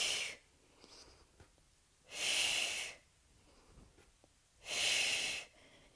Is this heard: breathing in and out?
yes